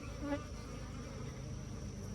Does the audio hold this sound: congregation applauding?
no